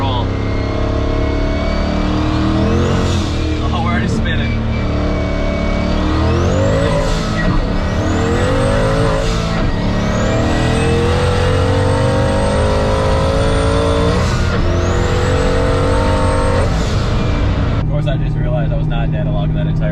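A Ford Mustang S197 drag car with a full weld drag pack, brake boosting before launching: the engine holds and revs loudly, then climbs through several rising pulls with gear changes before easing off, very close and loud throughout.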